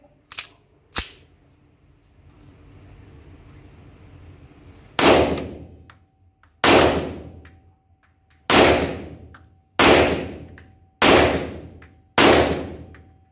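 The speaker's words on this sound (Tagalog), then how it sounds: "Okay, firing! Firing!" Firearm test fired during an extractor tune-up, two sharp shots near the start, then after a soft hiss six loud evenly spaced gunshots about every 1.5 seconds, each with a short ringing decay, close by.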